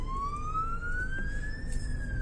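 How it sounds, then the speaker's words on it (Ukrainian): Ambulance siren heard from inside a car, a loud wailing tone that rises steadily and then dips slightly, over the low rumble of the vehicle. "швидка їде"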